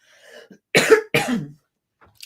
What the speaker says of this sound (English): I need to cough so bad